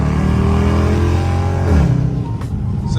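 A Dodge Charger R/T engine drones loudly right after a paddle-shift downshift into second gear, a steady close rumble that briefly swells before easing off.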